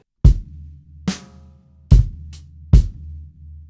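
A sparse funk drum kit groove of four sharp hits with low booming decay, spaced unevenly, played alone with no talking.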